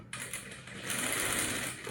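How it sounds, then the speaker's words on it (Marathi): A sewing machine runs a line of top-stitching along a blouse neck and its lining, a fast close whirring clatter that starts abruptly after a brief pause and runs on steadily. "इथे बघा आता ह्या गळ्याला दाब शिलाई घेणार आहे आपण।"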